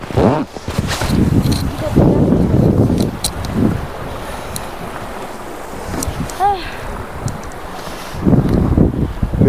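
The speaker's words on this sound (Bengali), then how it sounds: "আর এখানে প্রচন্ড পরিমাণ হাওয়া দিচ্ছে।" Strong wind gusting at Zero Point in snow-covered North Sikkim, buffeting the microphone in loud, uneven roaring waves, easing in the middle before surging again, with a brief voice in the background.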